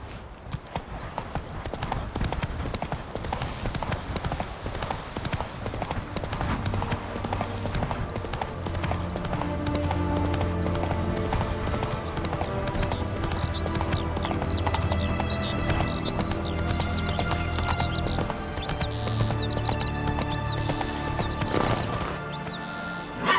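Roach, a horse in The Witcher 3 video game, gallops with a fast, steady drumming of hooves that builds and holds loud and close, accompanied by game music and ambience.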